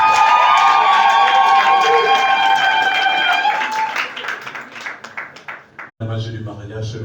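Wedding guests applaud and cheer loudly at a marriage ceremony, a dense burst of clapping and voices mixed with music that tapers into scattered claps before a brief cut and fresh applause.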